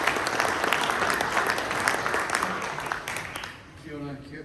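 Conference audience applauding as guests are welcomed onto the stage, a dense, steady clatter of many hands that thins out toward the end.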